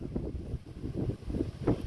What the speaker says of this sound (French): Et le vent il est de plus en plus fort les gars.